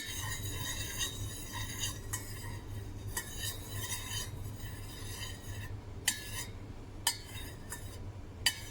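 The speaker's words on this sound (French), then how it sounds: "on va, sans se brûler, touiller pour que le mélange soit homogène" A homemade candle mixture being stirred in a container, a steady scraping swirl under repeated sharp metallic clinks as the utensil taps the sides every second or so, close and moderately quiet.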